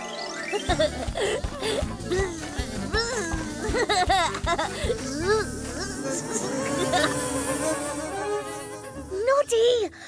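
Cartoon bees buzz in a busy, droning hum while cartoon-like voices chatter and laugh over the top.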